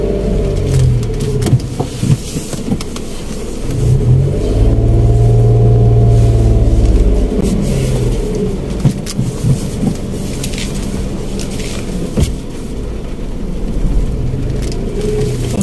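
A manual car's engine idles loudly up close, then revs up and holds for a few seconds before easing back to a rumbling idle, with small clicks and knocks from inside the cabin.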